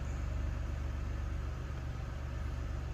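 A Chevy Impala with an oil pressure sensor fault idling, giving a steady, low, even engine hum that runs without a break and with no talking.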